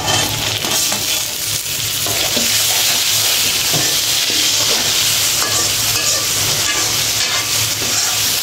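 Tomato hitting a frying pan of oil with salt and turmeric, a loud, dense sizzle that runs the whole time, with spoon scrapes and stirring clatter close by.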